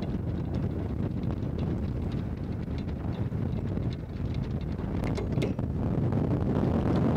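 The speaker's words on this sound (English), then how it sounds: "Now you can hear now the windlass is coming under load. It's struggling now." An anchor windlass on a sailing yacht straining under the load of the anchor chain, a steady low mechanical grind set against constant wind noise and boat sounds, continuous and close.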